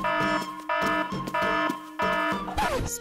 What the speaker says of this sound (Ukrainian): Вимкніть будильник.